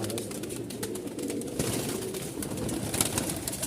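Malwai pigeons with leg rings coo in a loose flock, a steady murmur of soft calls close by over a rustling background, with no voices.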